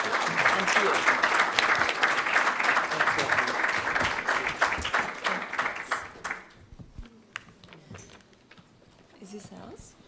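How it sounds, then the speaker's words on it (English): An audience at a London Book Fair 2015 panel discussion gives a loud round of applause that carries for about six seconds, then drops away, leaving faint room noise and scattered movement. "can you please give a round of applause for our panel here?"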